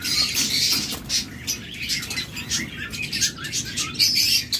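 Caged yellow high-mutation lovebirds at a bird farm chirp and squawk in bright, overlapping bursts, loud and close, with several birds calling at once and no talking.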